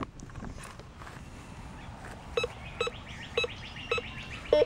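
Metal detector beeping over a buried target while digging, five short, sharp repeated beeps at roughly half-second intervals, clear and close over faint rustling in the background.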